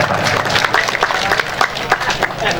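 A crowd at a village rice harvest ceremony in Ciamis gives a brief burst of dense clapping, steady and fairly close, with no talk over it.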